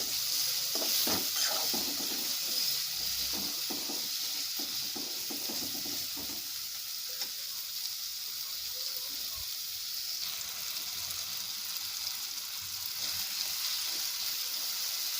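Tomatoes sauté in hot oil in a pan for a village-style Malvani vegetable dish, giving a steady sizzle that runs throughout, with a few stirring clatters near the start.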